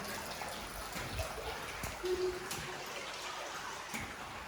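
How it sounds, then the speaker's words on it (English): Faint continuous trickle of water with soft echoing drips, quiet and steady inside Smallin Civil War Cave. "I love the sound of the water through there."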